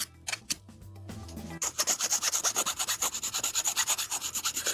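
Filing a plastic part from a 1/144 HG Bandai Gundam model kit, a few scattered scrapes and then a fast, even run of close rasping strokes, each stroke short and crisp.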